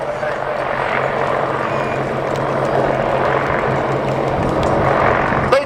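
An Apache attack helicopter hovering close during an air display bow at an airshow, its rotor and engine roaring steadily and loudly throughout while an announcer talks over the noise.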